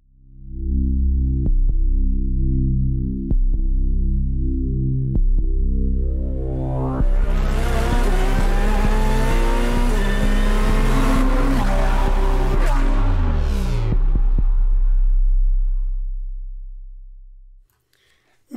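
A loud intro jingle for a Ferrari-focused motorsport show, built from a revving race-car engine whose pitch climbs steadily, then swells into a roaring, tire-squealing burst before cutting off.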